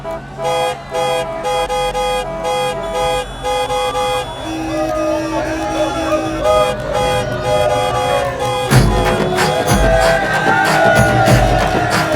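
A car horn honks repeatedly at a crowd, short toots and longer blasts over a busy background of vehicle noise and voices.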